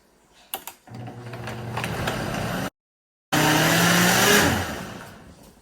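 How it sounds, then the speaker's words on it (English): Kitchen blender running on high while blending chicken mole sauce, a loud whirring motor that starts after a few clicks, cuts out briefly, then roars again before winding down. "So we're going to put our blender on high."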